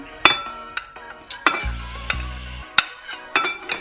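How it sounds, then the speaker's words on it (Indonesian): Fried fish is dipped into a pan of pecak ikan sauce in a home kitchen, with sharp metallic clinks of a utensil against the pan, a soft sloshing thud midway and light stirring noises, close and without talk. "terus kita celupin aja ikannya ke dalam"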